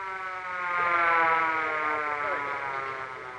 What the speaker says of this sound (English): Ah, it's just an ambulance.